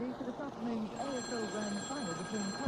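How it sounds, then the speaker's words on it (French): A telephone rings with steady, sustained tones beneath continuous narrated speech, in a science-fiction audiobook scene set in a bedroom. "jusqu'au moment où le téléphone sonna"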